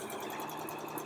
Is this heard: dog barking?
no